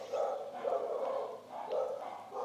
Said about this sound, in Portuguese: Essas cachorras agora, não cala a boca.